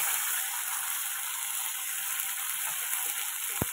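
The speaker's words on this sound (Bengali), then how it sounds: "এটা একটু ভালো মতো কষিয়ে নেবো" Ground spice paste frying in oil in a pan, a steady, even broadband sizzle running unbroken throughout with one brief sharp click near the end.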